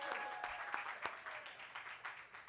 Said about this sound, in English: you can give a round of applause for that.